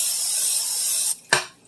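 A steady, loud hiss of cooking spray into a casserole dish runs for about a second, stops, then one short final spritz follows.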